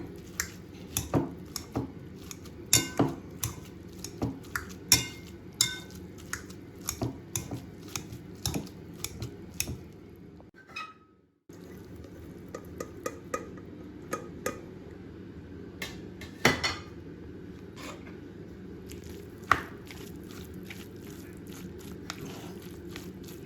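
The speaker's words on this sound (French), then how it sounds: "Mon chou-fleur est cuit. Je l'écrase. Ensuite, je le mélange à ma viande." Cooked cauliflower is mashed and mixed into meat, a run of soft squishing presses and light clicks of utensil on bowl, close and quiet, briefly pausing before the mixing continues.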